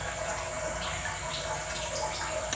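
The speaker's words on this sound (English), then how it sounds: "you can hear the water moving" Water moving inside a septic system's pump tank, heard through the open lid as a low, continuous churning wash with a faint hum, steady and unbroken.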